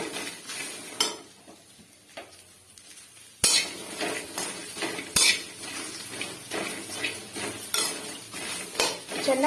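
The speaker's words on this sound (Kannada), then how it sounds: "ಬೆಂಡೆಕಾಯಿ ಎಣ್ಣೆ ಏನೂ ಹಾಕಿಲ್ಲ, ಹಾಗೆ ಫ್ರೈ ಮಾಡ್ತಾ ಇದ್ದೀನಿ" Okra stir-fried in a dry pan with no oil, a utensil scraping and clinking against the metal in repeated sharp knocks over a faint steady sizzle, close and fairly loud.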